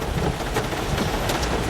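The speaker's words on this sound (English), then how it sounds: "We're seeing a lot of rain." Heavy rain during a storm on Route 1 heading south into Boston, a dense continuous roar of downpour with rumbling low tones, loud and steady with no voices.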